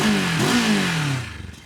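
A CF Moto 700MT motorcycle with a 270-degree crank, heard from the rear exhaust, revving up and down loudly up close before the engine note drops and stutters to idle.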